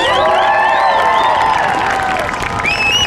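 A school family-night audience cheers and claps for two assistant principals, a loud, dense crowd roar with whoops rising over steady applause.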